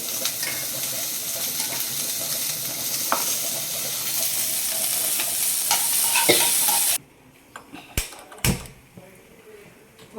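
Paneer masala ingredients sizzle loudly while being stirred and fried in a pan, a steady frying hiss for about seven seconds, then cutting out, followed by a few sharp utensil clanks in quiet.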